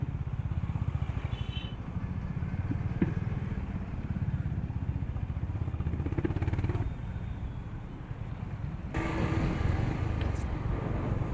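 A Honda Highness motorcycle on the move, its engine thumping with a steady throbbing pulse that rises and eases with the throttle, heard up close alongside wind and road noise.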